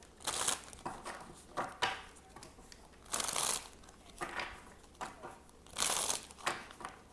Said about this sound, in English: Because y'all know I could shuffle for forever, so I'm trying to cut back on shuffling time.